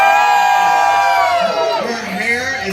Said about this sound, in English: Y'all scream for Louisiana's hair